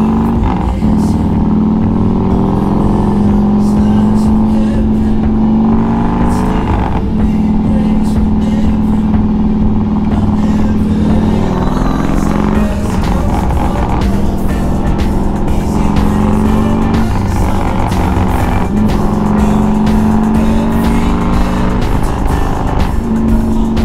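A 2006 Harley-Davidson Softail Deluxe rumbles steadily on the road with a deep, loud V-twin drone, rising and falling through gear shifts and throttle changes for the whole ride.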